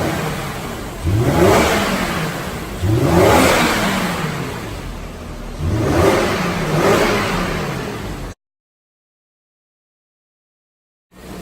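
A bone-stock Lexus IS300 engine revving in three long rising-and-falling pulls, each climbing and then settling, loud and close, followed by a sudden cut to silence.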